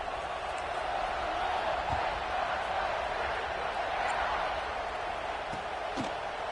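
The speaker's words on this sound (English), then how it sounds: "this crowd is buzzing after that last score" Stadium crowd in a football video game keeps up a steady, broad buzzing murmur, with a few faint thumps scattered through the constant din.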